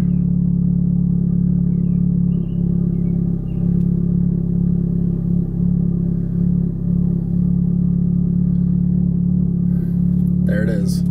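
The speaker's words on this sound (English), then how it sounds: "Now I'm gonna go start my car." A car engine idles roughly with a steady low rumble, close and continuous, with light revving swells and people talking over it at a cars-and-coffee gathering.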